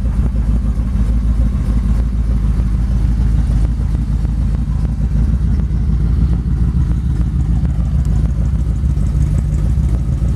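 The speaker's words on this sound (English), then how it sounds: "You gotta love the sound of a flathead. This one almost sounds like a small block." A hopped-up original flathead V8 in a 1941 Ford pickup runs close by, a loud, steady, deep idle with a low throbbing rumble and small bursts of throttle, and no voices.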